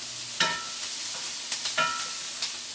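Food sizzles steadily in an iron skillet while a utensil stirs and scrapes it in a few distinct strokes, close and moderately loud, with no talking.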